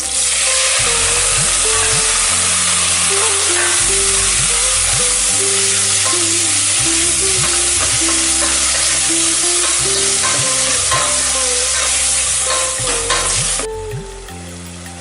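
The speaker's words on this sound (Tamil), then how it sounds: "தக்காளி போட்டு கொஞ்சம் நல்லா வதங்கி வந்துடுது." Tomatoes and slit green chillies sauté in hot oil in a pan for a Kumbakonam kadappa, with a steady loud sizzle throughout and repeated scraping and clinking of a spoon stirring against the pan.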